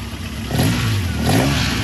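A racecar engine runs close by and revs up, its rough mechanical note swelling and then holding at a steady, loud drone, with no voices over it.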